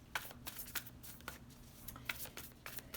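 Animal Oracle cards being shuffled by hand, a series of crisp riffling flicks at an irregular pace, close and fairly quiet with no talk.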